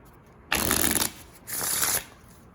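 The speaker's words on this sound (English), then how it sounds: "Let's give it a shuffle." A deck of Organic Playing Cards Carvers cards is riffle-shuffled twice, two close, crisp rattling bursts separated by a short pause.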